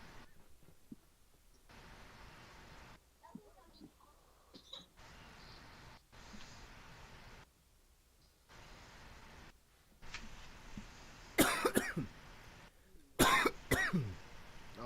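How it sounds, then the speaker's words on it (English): Someone playing an online basketball game coughs close to the mic, with two or three sharp bursts near the end after a long stretch of quiet, faint background hum. "I'm coughing on this shit"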